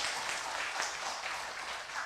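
An audience at a directors' inauguration ceremony in Badung applauds, a continuous even wash of clapping at moderate distance with no clear voices on top.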